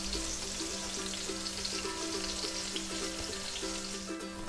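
Fish sizzles steadily in hot coconut oil in a pan, a dense, continuous crackle with no talking, accompanied by a faint hum.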